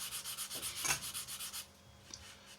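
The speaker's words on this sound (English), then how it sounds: "If you use a smaller sanding stick, you won't end up obliterating all your detail around it." A small sanding stick rubs back and forth across a plastic model kit part in quick, even strokes, a close, soft scratchy rasp repeating about ten times before a pause and a couple of lighter passes.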